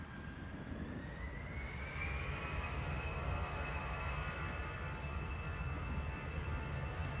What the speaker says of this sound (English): Ryanair coming in from Barcelona, EIHF with flight 6597. 737 MAX 8.